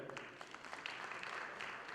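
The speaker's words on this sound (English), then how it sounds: "A round of applause for them." Faint, distant applause from a crowd at a convention's inaugural ceremony, a steady patter of clapping throughout.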